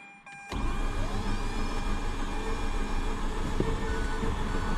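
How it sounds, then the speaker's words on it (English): The starter cranks the rotary engine of a 2004 Mazda RX8 that won't start, kicking in abruptly and whirring steadily and loudly without catching, heard close up with no talk. "The starter's spinning strong, that's for sure."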